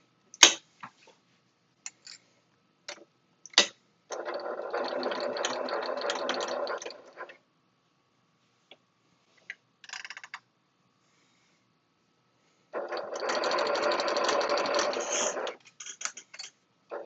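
A sewing machine stitches a bowler bag in two bursts of several seconds each, separated by quiet stretches with scattered light clicks and taps from handling clips and fabric.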